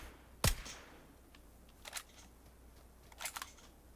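A single rifle shot in PUBG on Xbox, one sharp loud crack near the start, followed by a few fainter clicks and mechanical rattles, with no voices.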